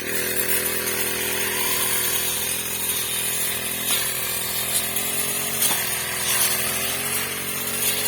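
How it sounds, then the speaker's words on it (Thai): A grass-cutting machine used by an elephant's mahout near a rubber plantation drones steadily and loudly with a buzzing engine tone, its pitch shifting slightly as it works, with no talking. "ที่เสียงดังนะคะเพราะว่าพ่อควานก็ใช้เครื่องตัด"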